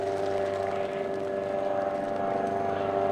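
Sport plane at full throttle taking off at Lelystad Airport, a loud, steady propeller engine drone with a strong tonal hum, sustained and close throughout.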